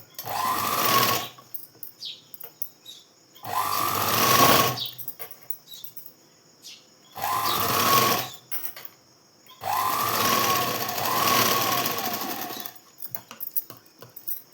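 Sewing machine stitching a blouse seam, running in four bursts of a few seconds each with quiet pauses between, a fast whirring needle chatter close up.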